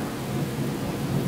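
Steady thunderstorm rain pours across the Waterberg during the November rainy season, a dense continuous hiss with a low rumbling undertone, loud and unbroken throughout without any voices.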